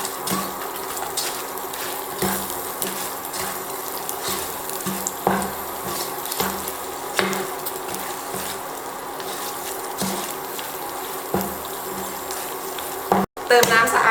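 Fried pork belly and curry paste are stir-fried in a pan, with continuous sizzling and repeated scraping stirs heard up close for a long stretch.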